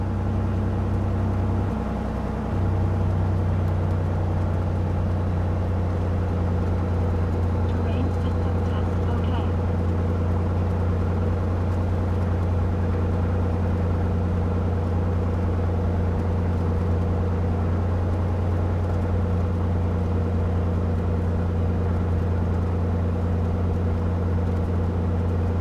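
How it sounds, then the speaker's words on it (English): An aircraft engine idles steadily at 1200 RPM during an inspection run, a constant low droning hum with a stable tonal whir throughout, loud and unbroken, with a voice occasionally speaking over it. "I need to put the engine on 1200 RPM"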